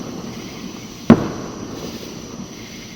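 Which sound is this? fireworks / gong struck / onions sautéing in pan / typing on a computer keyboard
fireworks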